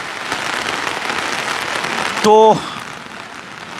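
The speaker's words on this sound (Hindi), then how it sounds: "अब बारिश तेज हो गई है" Heavy rain pouring down steadily, a dense continuous hiss throughout, briefly overlaid by a short tonal whine near the end and a single spoken word.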